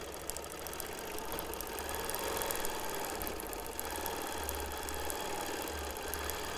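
Longarm quilting machine stitching straight lines, a steady mid-pitched mechanical hum with fast rhythmic needle chatter running continuously at moderate volume throughout.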